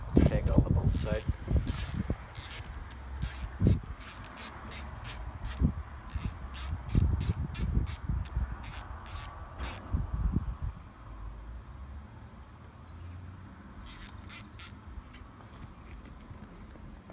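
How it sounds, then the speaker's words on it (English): Cylinder head bolts come off an outboard motor to a ratchet's rapid metallic clicking in several close bursts, first mixed with clatter and handling, then again after a quieter pause. "now we're just gonna take all the bolts out."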